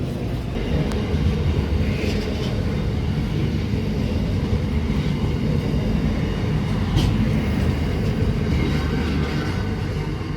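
Train passing through Asquith station, a loud continuous rumble of wheels and carriages with faint squeals over the top, sustained and close with no voices.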